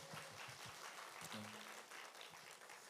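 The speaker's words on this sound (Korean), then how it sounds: "박수하시겠습니다." A church congregation claps during a Sunday worship service after a child's testimony, a soft, distant spread of applause with a low murmur underneath.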